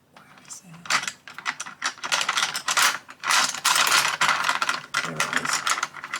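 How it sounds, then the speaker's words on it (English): Hands rummage through a drawer of colouring pencils, a busy run of clicking, clattering and rattling as items are shuffled around up close, with no talking. "Excuse me rustling around in my drawer."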